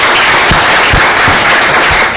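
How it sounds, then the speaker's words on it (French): Audience applauding at a ceremony held in honour of recently auditioned comrades, a dense, loud and continuous clatter of many hands close by, with no voices. "Akossi Benjo, il faut l'applaudir beaucoup."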